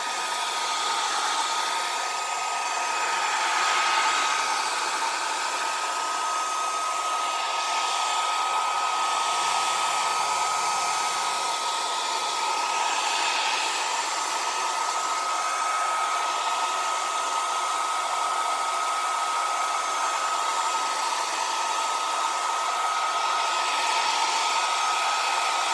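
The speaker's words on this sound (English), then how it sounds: "And then I'll take my hair dryer" A hair dryer blows continuously over alcohol ink, a steady, even whooshing hiss that runs unbroken throughout with no voices.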